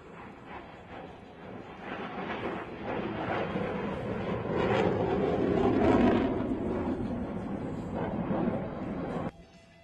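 Military strike team jets taxi back at Moody AFB during an Air Force open house. A loud, sustained engine roar builds and swells in the middle, then cuts off abruptly near the end, with a voice over it.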